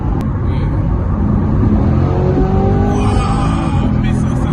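Corvette C8 Stingray, roughly 480 horsepower, on a test drive: a deep engine rumble and drone steadily fills the cabin, with faint tonal whine rising partway through and some background voice mixed in.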